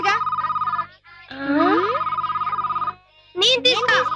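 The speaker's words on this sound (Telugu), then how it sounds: "బాబు కృష్ణ ఆ ఫోన్ చూడయ్యా." An old landline telephone bell rings in bursts, loud and close in a home, with a short gap between rings, as a voice speaks over the ringing.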